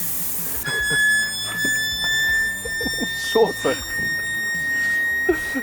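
The pump on an air-foam fire engine gives off a steady, piercing electronic alarm tone that holds without a break while people talk briefly nearby.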